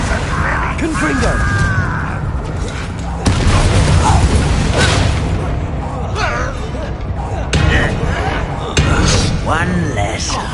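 Blasting spell explosions go off in Hogwarts Legacy combat, loud booms and thuds repeating every few seconds amid clattering game effects, with voices calling out between them.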